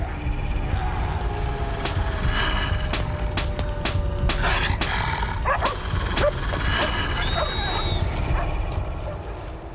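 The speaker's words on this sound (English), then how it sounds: "The frenzy of noise seems to attract the attention of the dogs in the nearby farmhouse." Dogs at a nearby farmhouse bark and yip intermittently against a backdrop of high wind, the barks fairly faint and distant among the gusts.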